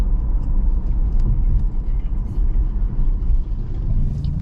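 A Tesla on Full Self-Driving makes a steady, loud in-cabin road rumble and tyre hum as it cruises a scenic route into Georgetown, DC, with no talk.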